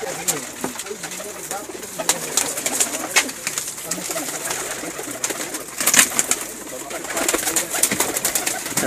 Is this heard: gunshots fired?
no